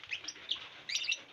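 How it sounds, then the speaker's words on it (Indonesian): Lovebirds, including hybrids, kept in a colony cage give bright repeated chirps and tweets in short clustered bursts, fairly close and clear over a quiet background. "Asli ini burung, tidak ada editan atau apa."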